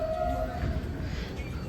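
A Siemens-built New York subway train rumbling through a station, low steady roar with a faint tonal whine, heard briefly without talk.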